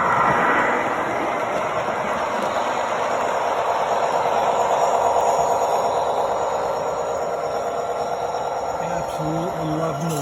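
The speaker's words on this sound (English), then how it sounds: "Absolutely loving the realism of these trains." Three 1/64 scale American Flyer model trains running, a continuous close rumbling roll with faint rhythmic clicking of wheels over track, steady and loud throughout.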